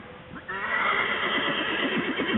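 A horse named Jetta neighs loudly and close by in a long, shaky whinny that starts after a quiet moment and carries on to the end, while a child leads her toward a tree.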